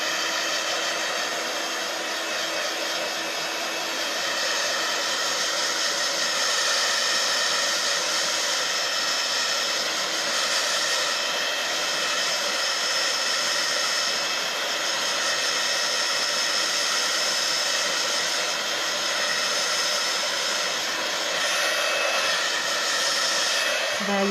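A hair dryer blows continuously, loud and close, with a steady whooshing roar throughout while drying splattered paint on a pop up box card.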